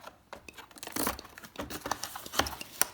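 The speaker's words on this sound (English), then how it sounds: "Let's get the tape off first." Packing tape peeled and torn off the cardboard packaging of a Go Stock full-proportion high-speed RC monster truck, with crinkling and ripping bursts, louder toward the end, close up and without talk.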